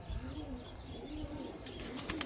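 Cooing from a Sialkoti pigeon, a soft repeated low murmur sitting close and steady, with a few brief higher chirps near the end and no talking.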